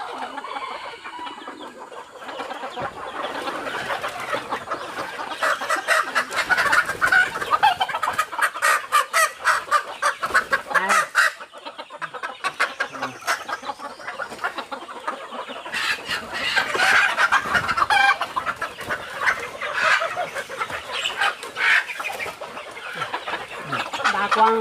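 Rooster and hens clucking steadily among a flock at a rural forest-edge farm, dense overlapping calls running throughout, fairly close and loud with busy bird chatter.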